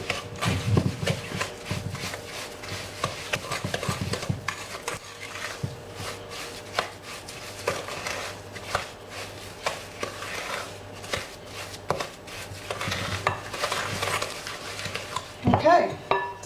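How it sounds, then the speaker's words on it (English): Chocolate chip cookie dough, softened in the microwave, is stirred and beaten in a bowl with a utensil, giving repeated scraping and knocking strokes up close with occasional louder clinks against the bowl. "just slowly stir that. Beat that through until it's a nice creamy consistency."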